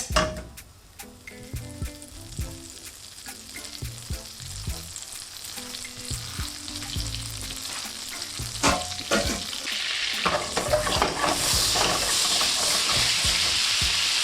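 Butter melts and sizzles in a pan for a chicken wing glaze, a steady frying hiss that builds and grows louder toward the end, with occasional stirring clicks and no talk.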